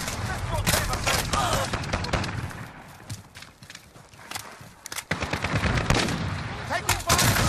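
Rapid gunfire rattles through a Shoot House team deathmatch in a shooter game, dense bursts of automatic shots and single cracks, loud and close, easing briefly mid-clip before heavy firing resumes.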